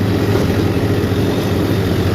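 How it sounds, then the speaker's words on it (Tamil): A tractor engine runs with a mulcher attached in a farm field, a loud, close, steady mechanical drone with a rough, even rumble and no voices. "டிராக்டரோட இன்ஜின் சத்தம்"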